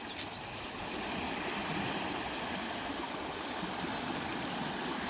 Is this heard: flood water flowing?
yes